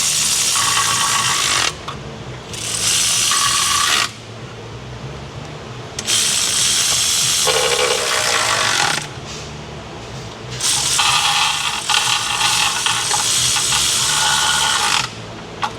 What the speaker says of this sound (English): Now we just need to bring all these bolts up to torque.